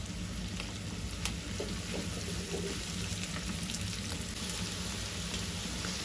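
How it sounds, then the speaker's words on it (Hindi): Okra and potatoes fry on a high flame with a steady, even sizzle and crackle throughout, fairly faint and with no talking. "तेज़ आंच मैंने चूल्हे की कर दी है। इस पर हम 4 मिनट इसको फ्राई कर लेंगे आलूओं के साथ।"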